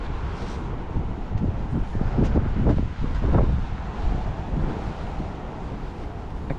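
Wind blowing outdoors on an ultramarathon route, a loud rumbling buffet across the microphone that surges and eases in gusts throughout, with no voices.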